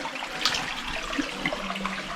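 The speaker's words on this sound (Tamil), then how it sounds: "இதுதான் ப்யூர் வாட்டர்னா எவ்வளோ நீட்டாக இருக்கு பாருங்கள். Fresh water." Fresh water flowing inside a cave in Meghalaya, a steady rushing trickle with small splashes, close and moderately loud, with no voices.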